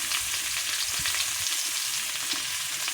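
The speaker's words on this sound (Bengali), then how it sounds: "ওই আলু ভাজার মধ্যে এখন ফুলকপিটা দিয়ে দেবো। ফুলকপিটাও ভাজা করে নেব।" Cauliflower and potatoes frying together in hot oil in a pan, a dense, continuous sizzle with faint stirring scrapes, close and alone.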